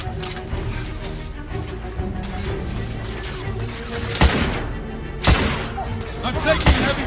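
Heavy gunfire and explosive impacts in the Victorian-era shooter The Order: 1886, with thermite rifle fire, sustained rumbling battle noise and several loud sharp bursts near the end.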